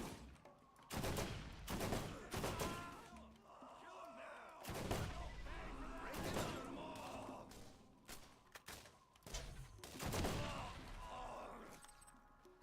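Gunfire in the wasteland shooter Borderlands, with several loud bursts of rapid shots in clusters and pauses between them, backed by quieter game ambience.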